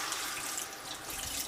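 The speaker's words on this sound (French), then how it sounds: "maintenant on va rajouter un petit peu d'eau pour déglacer un petit peu les sucres" Water poured into a hot pan to deglaze the caramelized base of a Tunisian couscous sauce, a steady hissing rush of liquid that continues evenly for a second and a half, close and moderately loud with no talking.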